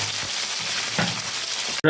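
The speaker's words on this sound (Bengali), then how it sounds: "তো আমি আলু আর কপিটা ভালো করে ভেজে নেব" Close, continuous sizzling of potato and kohlrabi frying in oil, with soft stirring scrapes, cut off abruptly at the end.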